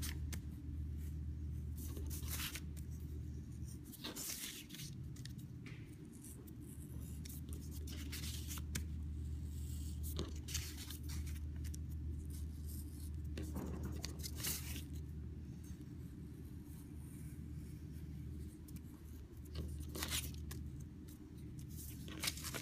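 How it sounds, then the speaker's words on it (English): An X-Acto craft blade slices through paper with repeated short scraping strokes, a close and faint sound over a steady low background hum, with no talking. "So I'm cutting towards me, making sure that my hand is above where I'm cutting."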